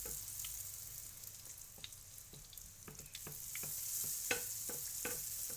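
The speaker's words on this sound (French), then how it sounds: "On vient former nos sponges ou nos beignets en rond et on place directement dans l'huile." Sfenj doughnut rings sizzling in hot oil, a steady bright frying hiss with soft spoon clicks and taps scattered throughout, close and fairly quiet.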